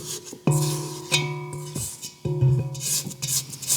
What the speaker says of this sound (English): Give it a little scrape.